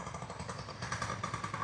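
An off-road motorcycle on Haliburton Highlands trails revs with a buzzing engine drone whose pitch rises and pulses as it passes. It is moderately distant and sounds without any speech.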